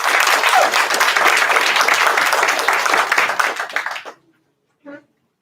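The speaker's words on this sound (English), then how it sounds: "Please give Michael a round of applause." An audience at a board meeting applauds, sustained close clapping for about four seconds that fades out, followed by silence and a brief short sound.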